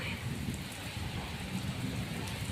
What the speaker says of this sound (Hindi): अभी भी बारिश बहुत तेज हो रही है